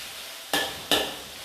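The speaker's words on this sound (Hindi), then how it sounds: "कलवंजी भी भून गई है हमारी, जीरा भी इसमें भून गया है" Nigella seeds and cumin fry in a pan for a chicken liver dish, giving two short, sharp sizzling bursts close by, each tapering off over a low background hiss.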